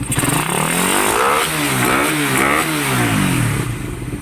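A motorcycle engine idles close by and is revved several times, its pitch rising and falling in smooth sweeps.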